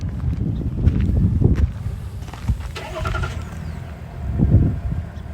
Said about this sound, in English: It's barely purring, which is another awesome feature, another awesome thing about how well designed this Duramax diesel is.